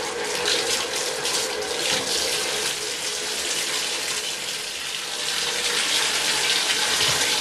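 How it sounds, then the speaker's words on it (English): Tap water runs steadily into a sink as a prosthetic leg is rinsed out, a continuous close splashing gush with no talk over it. "So I just rinse all this out."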